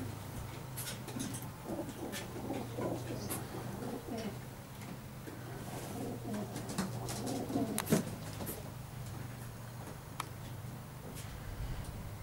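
Pigeons of mixed colours coo in a loft, a low, continuous rolling murmur with scattered faint scratches and flutters throughout.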